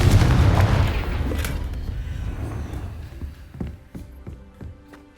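A Confringo fire spell bursts in Hogwarts Legacy with a loud, deep boom at the start, then a rumbling decay with scattered clanks and small debris knocks trailing off.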